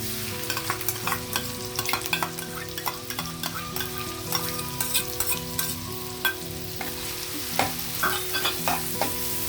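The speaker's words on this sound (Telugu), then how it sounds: "ఆయిల్ హీట్ అయింది, ఆనియన్ వేస్తున్నా" Onions dropped into hot oil with salt and turmeric fry in a steady, loud sizzle, while a spatula clatters and scrapes against the pan in frequent irregular knocks close by.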